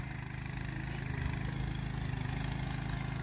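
A power tiller's engine runs steadily in a farm field, a continuous mid-pitched chugging hum that stays close and even throughout, with no talk over it.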